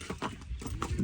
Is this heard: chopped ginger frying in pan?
no